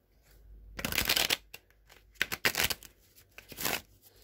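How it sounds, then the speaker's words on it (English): Tarot cards being shuffled close by in several quick crisp bursts of riffling and flicking, with brief gaps between them and no voices. "All right, one more shuffle."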